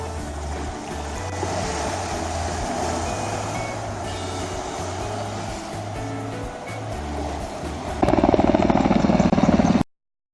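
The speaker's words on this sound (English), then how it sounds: "Crazy freaking airplanes and helicopters. Like every 20 minutes." A helicopter passes over the white sand of Destin Beach on the Florida coast, a steady low rotor drone sitting beside the surf for several seconds before growing much louder and closer for a final burst and then cutting off abruptly.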